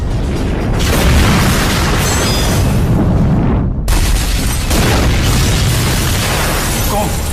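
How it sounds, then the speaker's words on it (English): Massive roar of a plane crashing into apartments, with burning aviation fuel raining down, a loud continuous rumbling blast that briefly drops out and then surges back, dense and close throughout. "The sound of the crash came from the direction of Marlena and Stanley's home"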